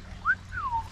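A short, thin whistle from a person with dry lips, two quick wavering notes, the second sliding down in pitch, heard close and alone over faint background hum.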